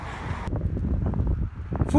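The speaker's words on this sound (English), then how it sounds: "It's really windy!" Gusty wind buffets the microphone on an exposed hilltop near Hemel Hempstead, with low rumbling noise, a short rustle in the middle and a louder gust at the end.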